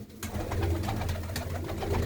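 A loft full of hobby pigeons coos steadily, overlapping throaty calls from several birds forming a continuous close murmur with occasional sharper flutters.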